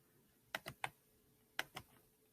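Five sharp clicks from the volume button on a computer keyboard, three in quick succession and then two more a moment later, close and crisp against a quiet background.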